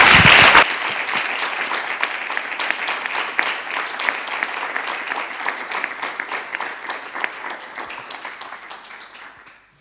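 At the Soledad Lorenzo gallery awards, an audience applauds an award winner with a loud, full wave of clapping that holds steady for several seconds and then gradually tapers off.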